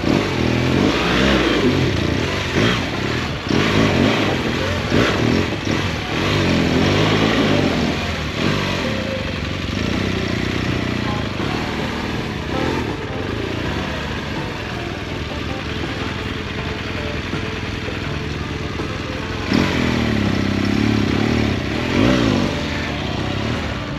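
Motorcycle with a boxer engine, idling and revving in repeated swells, loud and close with a continuous rumbling drone throughout and no talk over it.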